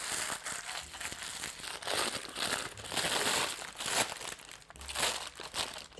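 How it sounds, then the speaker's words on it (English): Close, continuous crinkling and crumpling of parchment paper, crisp and rustly throughout with no talking. "I'm just gonna crumple my parchment."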